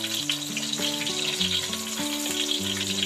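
Eggplant pieces frying in hot oil, a dense steady sizzle with crackling bubbles, close and continuous, over a soft background tone.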